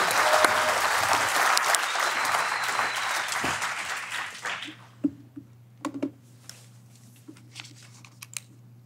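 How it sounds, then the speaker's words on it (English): A conference audience gives the next speaker a round of applause: dense, lively clapping for about four seconds that quickly dies away, leaving a low hum and a few scattered clicks and shuffles. "a big round of applause for our next speaker"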